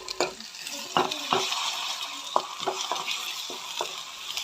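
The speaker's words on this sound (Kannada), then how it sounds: "ಹಸಿ ವಾಸನೆ ಹೋಗುವಂಗೆ ಹುರ್ಕೋರಿ" Ginger garlic paste fries in hot oil with a steady broad sizzle, while a spoon stirs and scrapes the pan in irregular clicks and knocks, close and fairly loud, with no talking.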